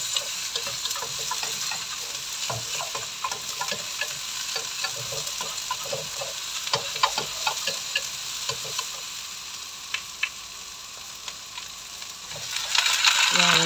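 Vegetables, including green peas and cabbage, sautéing in a pan with steady sizzling and frying, broken by scattered stirring clinks and scrapes, close and continuous throughout.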